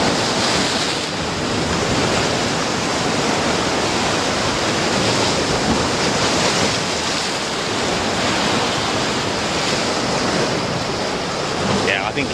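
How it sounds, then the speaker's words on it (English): Ocean waves break on a shore around sunrise as a continuous loud surf roar, with wind buffeting the microphone throughout and no clear voices. "Taking the last few shots while these waves are breaking before that sun really comes over the top"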